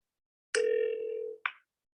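Steady telephone dial tone held for about a second, then a short electronic blip as a call is placed; clear and alone with no talk.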